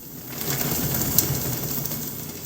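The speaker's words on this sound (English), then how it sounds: "sounds like this flock of birds taking off." A dense burst of fluttering and flapping from objects such as books and plastic bags, like many wings beating at once as a flock takes off, steady for a couple of seconds.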